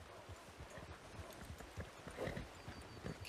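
Horse hooves clip-clop at a steady walking rhythm in Red Dead Redemption 2, a quiet, close patter of hoofbeats with no voices over it.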